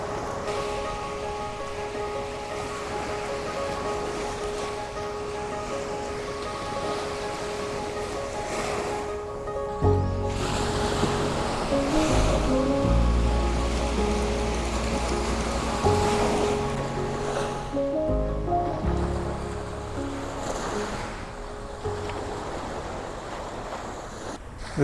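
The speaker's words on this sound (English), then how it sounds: "some texture in the waves coming up in the foreground" Sea waves roll in near a harbour wall with a catamaran offshore, a continuous surging wash under steady wind rumble on the microphone, swelling louder about midway and staying full to the end.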